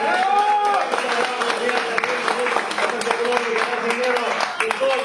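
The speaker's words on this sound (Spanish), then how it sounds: "Un aplauso al ingeniero Oscar." Audience applause at a health talk on diabetes in Santa Cruz, loud and steady crowd clapping heard under an emcee's amplified voice and a sustained musical tone.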